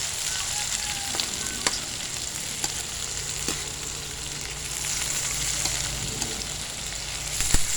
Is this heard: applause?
no